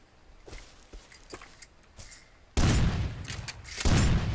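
Several sharp gunshots crack in quick succession in the game Rust Legacy, followed later by two loud bursts of heavy fire, with no talking.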